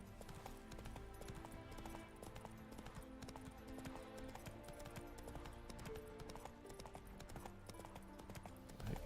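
In The Witcher 3, the horse Roach clip-clops along at a steady pace, the hoofbeats even and fairly near, layered over continuous in-game music and background sound.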